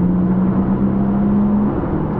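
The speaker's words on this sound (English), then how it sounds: "this car has the sports exhaust and oh, it sounds incredible" A Porsche Panamera e-hybrid Sport Turismo with the sports exhaust, set to Sport Plus and dropping down a few gears, gives a loud, close, steady engine drone with a throaty hum throughout.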